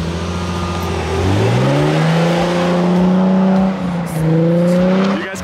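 Car engine revving hard in first gear while one tire spins through an open differential, rising and falling pitch with a loud steady roar, close up, no talk.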